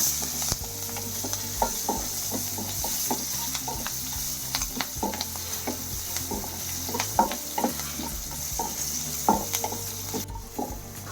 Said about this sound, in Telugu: కరివేపాకు, పచ్చిమిరకాయలు వేసుకొని కొద్దిసేపు వేగనివ్వాలి